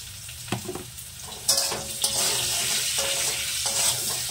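Potatoes lightly frying in a pan with salt and turmeric, a loud close sizzle that swells after a few light scrapes and then holds steady, without speech.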